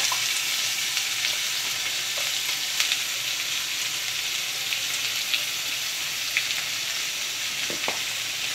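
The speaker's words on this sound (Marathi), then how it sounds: "कांदा छान परतत आलेला आहे" Onion sautéing in hot oil with curry leaves in a pan for poha, a loud, dense, continuous sizzle with light occasional clicks from stirring.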